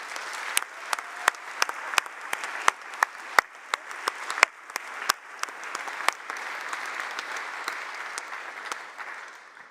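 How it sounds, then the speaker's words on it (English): A round of applause at the ALMathon Challenge 2025 finals, with scattered sharp individual claps over a softer bed of clapping, fairly near and heard alone, easing toward the end. "let's give everybody a big round of applause"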